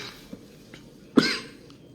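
A single sharp, fairly loud cough bursts out midway through a hushed indoor leadership training talk, with quiet room tone before and after it.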